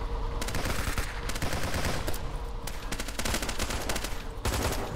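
Rapid automatic gunfire in a shooter video game, loud and nearly continuous, broken by a few short pauses between dense bursts.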